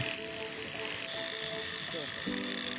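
A grinder buzzes with a steady, high motor whine while restoring an old axe; its pitch shifts slightly as the tool presses on the metal, and a voice may run faintly beneath it.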